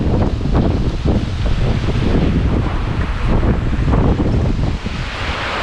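Heavy wind roar with rain and road noise on the Mawa Expressway during a sand storm, loud and continuous for the whole stretch with gusty low rumble and no talking.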